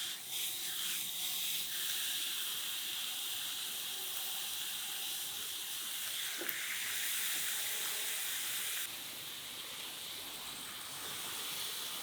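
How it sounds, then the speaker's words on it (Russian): Steaks sizzle on a Redman 816 steak-master grill, giving a continuous broad hiss of frying that holds steady and close throughout and briefly rises in brightness toward the end, with no one talking. "Ну что, пришло время ставить наши стейки на гриль."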